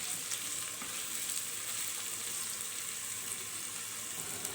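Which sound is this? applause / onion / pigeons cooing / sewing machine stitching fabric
onion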